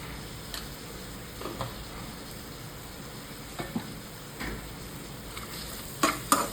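Spices being stirred into matki bhaji in a pan: a continuous sizzle under repeated scraping strokes, with a few sharper metallic taps of the spoon toward the end.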